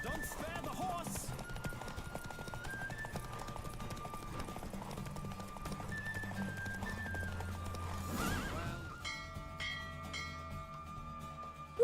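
Hooves clip-clop rapidly as a horse gallops in The Witcher 3, with a loud neigh partway through, all set against an orchestral in-game music score.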